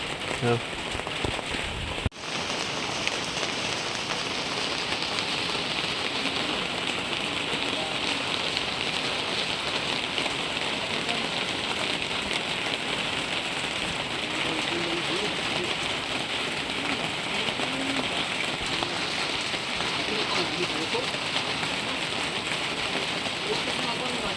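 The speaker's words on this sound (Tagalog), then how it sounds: "Ulan mga dol." Steady rain falls on a surface, a dense continuous patter that holds evenly throughout, with a brief click near the start.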